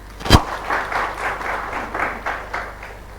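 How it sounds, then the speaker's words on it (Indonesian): A studio audience at a televised dialogue forum with the Banten provincial legislature starts clapping after a sharp thud. The applause comes in rhythmic, pulsing bursts, moderately loud. "Boleh tepuk tangan kembali?"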